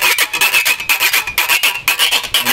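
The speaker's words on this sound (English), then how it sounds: "they call it Rake and Scrape because they see you raking and scraping" A handsaw scraped rhythmically as a percussion instrument in Bahamian rake and scrape (ripsaw) music, close and loud, with about a dozen even rasping strokes in a steady pulse and no voices.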